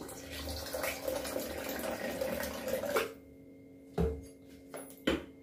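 Cold water pours steadily from a tap for making homemade ghee, a continuous close splashing that stops after about three seconds, followed by a few short clinks and bursts of water.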